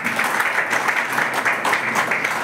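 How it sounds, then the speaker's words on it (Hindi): Loud, dense applause from a crowd at a party workers' rally in Nalasopara, a steady wash of clapping with no pauses across the whole stretch. "जोरदार ताली"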